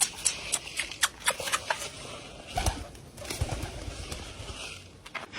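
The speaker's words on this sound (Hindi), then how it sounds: "यहाँ पर दोस्तों हमारे कबूतर खाना खा रहे हैं" Pigeons feeding together on a rooftop, with soft pecking and shuffling scuffs, brief wing flutters and occasional faint coos, close by in an open outdoor setting with no talking.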